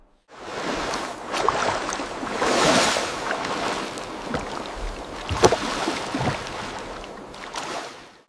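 Ocean waves surge and wash around a simple raft of tree trunks tied together, a loud, continuous rush of water and wind swelling and easing with no voices.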